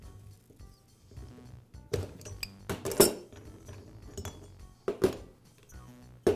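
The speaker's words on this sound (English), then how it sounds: "I'll use a pair of adjustable pliers to grab the clutch, and I'll bind the piston against the crankcase" Metal clinks and knocks as adjustable pliers grip the clutch on an Echo trimmer engine while the piston is bound against the crankcase, with scattered sharp taps and clanks at close range, no talking.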